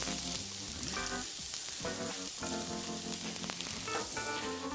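Garlic and chopped spring onion fry in oil in a pot, giving a steady, dense sizzle with faint crackles throughout. Tonal background sound runs underneath.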